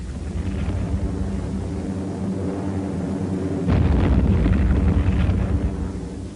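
Allied planes attacking a Japanese amphibious invasion force at Milne Bay, New Guinea, produce a continuous roaring rumble of engines and blasts that swells abruptly louder partway through, dense and noisy like an old wartime newsreel soundtrack.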